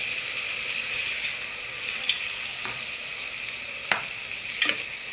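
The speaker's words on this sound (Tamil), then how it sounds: "தக்காளி வதங்குறதுக்கு கொஞ்சம் கல் உப்பு போட்டுக்கலாங்க, கொஞ்சம் சீக்கிரமாக வதங்கிடும்." Tomatoes sauté with rock salt in a pan for sambar rice, giving a continuous bright sizzle with a few sharp scraping stirs and clicks at scattered moments, close and steady, with no speech.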